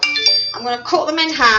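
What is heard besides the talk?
phone notification binging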